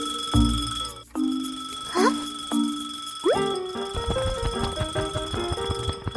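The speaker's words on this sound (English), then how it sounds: "Suddenly, the clock starts ringing loudly." An alarm clock in a Peppa Pig cartoon rings in bursts, with bell-like tones, a springy boing and plopping effects, moderately loud and close.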